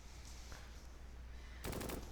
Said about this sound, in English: Looks like they have an 81mm mortar.